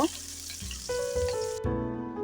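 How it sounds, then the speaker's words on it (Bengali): Chopped onions fry in a frying pan in oil just used for hilsa fish, a steady sizzle running under sustained tonal background music throughout the short stretch. "পেঁয়াজগুলোকে ভাজতে হবে ভাজতে ভাজতে যখন বাদামি কালার হয়ে যাবে"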